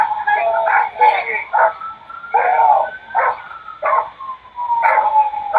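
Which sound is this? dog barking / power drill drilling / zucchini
dog barking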